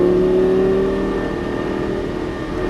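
A Lamborghini Gallardo LP550 on a racing track runs under throttle, a loud, close, steady engine drone with a whining tone that eases slightly in pitch and level, then rises again at the end.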